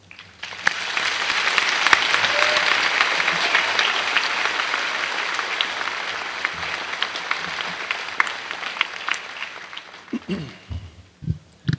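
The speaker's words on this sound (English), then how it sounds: "let's take a moment there to applaud you seniors for a job well done" Sustained applause from a commencement crowd honoring graduating high school seniors, a broad even wash of clapping lasting about ten seconds before tapering off into a few scattered claps and low rustling.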